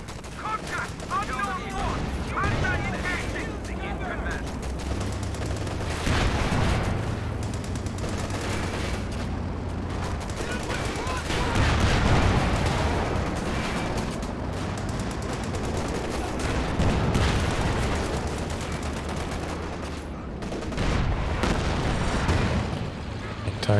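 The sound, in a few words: gunfire in Company of Heroes 2 video game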